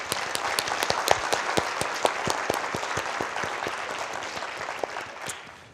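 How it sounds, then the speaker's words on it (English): An audience at a youth entrepreneurship celebration bursts into a loud, sustained round of applause, dense overlapping hand claps that hold steady before tapering slightly at the end. "So let's give a big round of applause for them."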